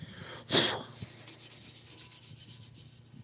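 A carburetor's information label is rubbed clean by hand in a run of quick, rhythmic scrubbing strokes, close and fairly quiet, after a sharper initial swipe.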